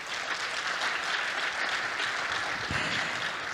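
An audience at KAIST's 50th anniversary ceremony applauds the presenting professors, a dense, even wash of clapping that stays steady throughout the short stretch, with no speech over it.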